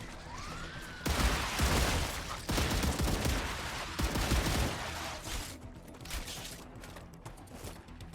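Light machine gun fire in a video game: a sustained, loud burst of rapid shots starting after a second of quieter game sound, then tapering to scattered bursts toward the end.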